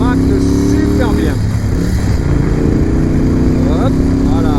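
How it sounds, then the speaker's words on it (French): A Moto Guzzi V7 750 Sport motorcycle's engine runs steadily throughout at close range, its low throbbing rumble persisting beneath a voice talking over it. "Et regardez, voilà, encore une fois le moteur, écoutez, hop,"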